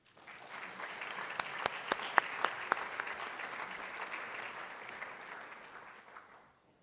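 An audience applauds to welcome a speaker at a school event, steady clapping swelling across the room with a few sharp, close claps standing out, then fading away near the end.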